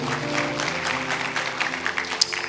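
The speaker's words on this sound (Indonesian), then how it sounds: "Beri tepuk tangan buat Allah kita" A church congregation claps during a sermon, a brief burst of sustained crowd applause with soft tonal music in the background and one sharp clap standing out near the end.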